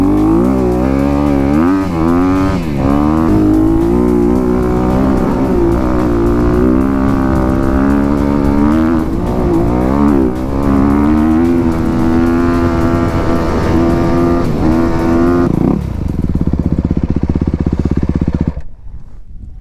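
Off-road motorcycle engines at Spangler Hills, loud and close, revving with rising and falling pitch for a long stretch before the sound cuts off abruptly near the end.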